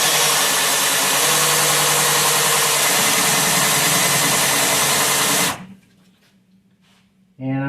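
A 1963 Chevrolet Corvair engine cranks over on the starter for a compression test, a loud steady whirring churn lasting several seconds, then cutting off abruptly, leaving quiet before a short burst of talk.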